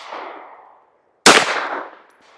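A Beretta .380 pistol firing Xtreme Defender +P ammunition: the echo of one shot fades out, then a single sharp, loud report cracks close by and rings briefly before dying away.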